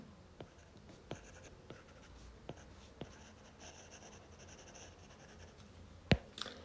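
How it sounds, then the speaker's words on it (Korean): Someone draws a diagram on a board during a trigonometry lesson, making quiet scratchy strokes and intermittent light taps, with one sharper knock near the end, in an otherwise hushed room. "그러면 이렇게 한번 그려볼게요"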